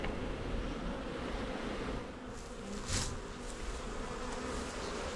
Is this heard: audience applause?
no